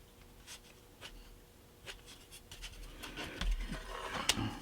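A pencil scratches short marking strokes onto the wall of a model apartment building for a model railroad layout, with faint, close scrapes and small taps coming in irregular bursts.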